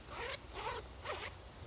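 A zipper on a Ridgeline Monsoon Smock jacket is pulled in three quick, crisp strokes, close and clear against a quiet room.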